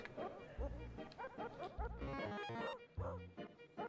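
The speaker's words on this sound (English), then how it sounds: "Dog Girl in fact does like to um, bark along with the music" A cartoonish dog character in the Wizkid video game yips and barks in quick bursts along with a tinkly melody, the barks rhythmic and close over the game music.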